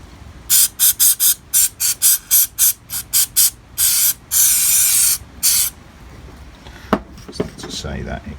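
Water squirted into a bowl during a dig-out cleanup: a rapid series of short, sharp hissing spray bursts, a couple held longer, loud and close, followed by quieter clatter and scraping.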